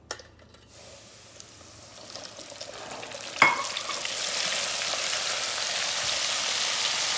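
Shrimp for po boys dropped into hot frying oil: a sharp splash-clatter, then a loud, bright sizzle that swells and holds steady, close by.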